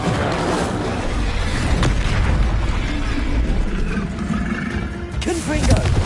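Incendio fire spell cast in the game Hogwarts Legacy, a sustained booming, roaring burst of flame with dense low rumble and crackle running under a voice throughout.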